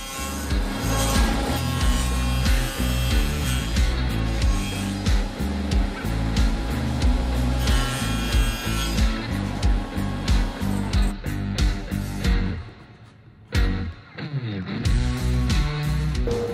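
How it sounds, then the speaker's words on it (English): Table saw with a Freud dado stack cutting lap joints in wood, giving a loud, continuous motor roar with a rhythmic cutting pulse before the blade spins down and quiets near the end. "that's with a Freud dado set on the table saw"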